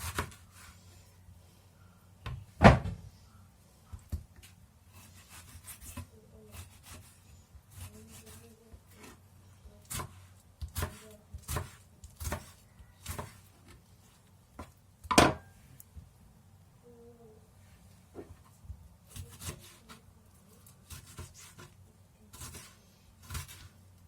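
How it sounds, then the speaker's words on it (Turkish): Repeated knife taps on a cutting board as tomatoes are diced into cubes, irregular and fairly close, with scattered sharper chops among softer rubbing and handling sounds; no voices. "Geriye kalan 3 kilo domatesin 6 tanesini küp küp doğruyorum."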